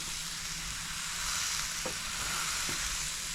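Red snapper fillet sizzles steadily on a Blackstone griddle, a constant close frying hiss with a couple of faint spatula scrapes partway through.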